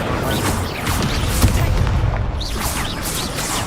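Incendio fire spell cast in Hogwarts Legacy, a whooshing burst of flame amid booming impacts and crackling combat noise, loud and steady.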